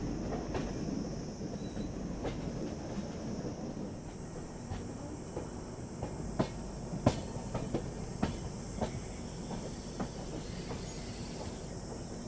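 A Malwa Express passenger train rolls slowly into Ujjain Junction: a steady low rumble with intermittent clickety-clack of wheels over rail joints and a few sharper metallic knocks, heard from on board with no voices.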